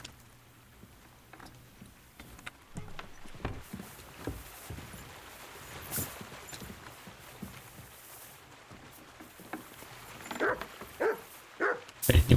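A dog barks in the video game Kingdom Come: Deliverance 2, with scattered sharp barks over quiet ambience, mostly moderate and growing louder and more frequent toward the end.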